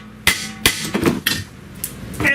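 Several hard metallic hammer blows on a stuck front brake rotor of a 2012 Dodge Grand Caravan, irregularly spaced with ringing between strikes, close by.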